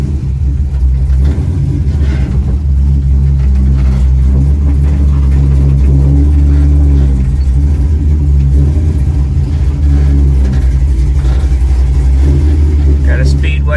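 A 1955 Buick fitted with an LS V8 and T56 manual gearbox, driving with a loud, deep engine rumble and shifting revs, close to the mic, with a voice talking over it.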